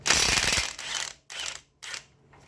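A ratchet wrench with a 17 mm socket works a tie rod castle nut on a 1998–2002 Toyota Camry front suspension, giving a long, loud clicking run followed by two shorter bursts, close up.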